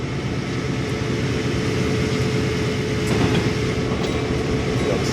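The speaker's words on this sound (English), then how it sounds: "We got another train passing us by, it looks like." Train passing by on the Stevens Pass route near Wenatchee in Train Simulator 2014, a loud continuous rumble of wheels and rail clatter, steady throughout with a few metallic clicks, no talking.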